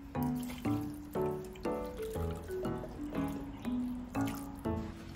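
About a cup of water is poured into a clay palayok while cooking white adobo, coming as a run of rhythmic splashing glugs that repeat roughly every half second, close and fairly quiet.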